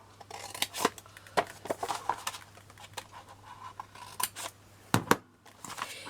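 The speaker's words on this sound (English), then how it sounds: "you need to snip from the corner to the corner" Scissors snipping card from corner to corner while making a large trinket box: a series of sharp, close snips at an irregular pace, with faint rustling between cuts.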